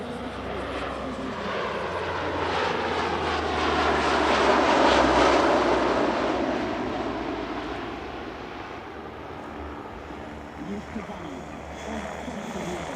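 A Polish Air Force C-130H transport aircraft makes a low pass at an airshow with its rear ramp lowered, a loud broad engine roar swelling as it nears overhead and then fading away, with a voice talking over it.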